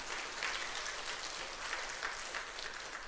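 A church congregation claps together during a New Year revival service, a fairly faint, distant and even patter of many hands with no voices over it.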